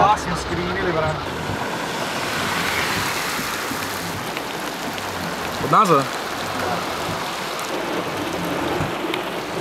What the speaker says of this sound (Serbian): Tuče nas kiša, brate. Led pada.